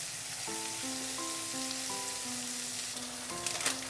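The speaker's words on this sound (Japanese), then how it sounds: "ひっくり返して両面にこんがり焼き色をつける。" Hamburger patties browning in a pan give a steady close sizzle under soft background music, with a few brief crackles near the end and no voices.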